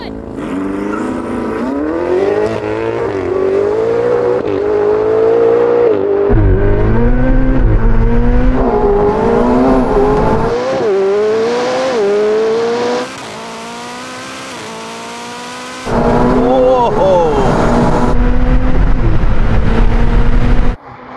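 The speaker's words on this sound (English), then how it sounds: "launch the car myself with a good old-fashioned brake boost" A McLaren sports car engine revs hard in repeated rising bursts during a brake-boost launch at a drag race start against a modified Ferrari 488 Pista, then roars off the line with loud, climbing acceleration through the gears.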